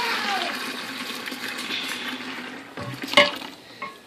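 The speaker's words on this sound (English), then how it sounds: "I'm going to very carefully pour it in so I don't burn myself." A hot homemade laundry soap mixture is poured into a bucket, a soft, steady liquid trickle that fades, followed by a few light clinks and knocks near the end, fairly quiet and close.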